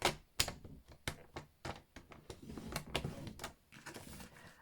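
Card stock scored on a score board: a series of sharp clicks and scraping strokes, irregular and close, each a short crisp tap followed by brief scratching, quiet overall with no talking.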